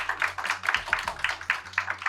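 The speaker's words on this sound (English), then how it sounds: "I think we all deserve a huge round of applause" Audience applause at the close of a panel session on AI, heard as dense, steady clapping from a room of people, loud and continuous without a break.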